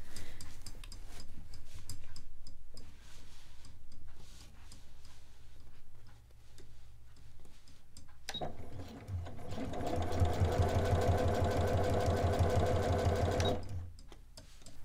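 A sewing machine stitches scrunchie fabric, starting with scattered short runs and soft handling noises, then breaking into a loud, steady, fast mechanical whir for several seconds before stopping. No voices.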